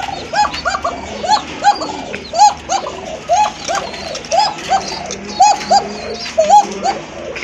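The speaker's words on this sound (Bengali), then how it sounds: "মাশাআল্লাহ দেখেন কোকা কবুতর" Koka pigeons coo in a loft, a steady run of soft, repeated rolling calls close by, overlapping in a rhythmic pattern with faint background chatter.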